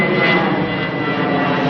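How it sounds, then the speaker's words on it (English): Jetstar jet airliner taking off, a loud, steady roar of jet engines filling the whole short stretch. "Jetstar, you're being a bit noisy"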